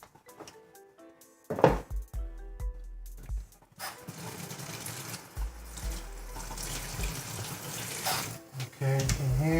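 A kitchen tap runs while raw chicken is rinsed in a pan, water splashing and gushing in uneven bursts that start and stop, with clatter of the pan and a voice speaking near the start.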